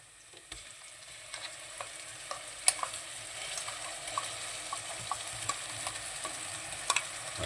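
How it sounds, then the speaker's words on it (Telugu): Ginger garlic paste fries in a pan with browned onions for a tamarind-free tuna fish curry; a soft steady sizzle runs throughout, punctuated by light taps and scrapes of a stirring spoon, fairly quiet and close. "ఇప్పుడు అల్లం వెల్లుల్లి పేస్ట్ వేస్తాను."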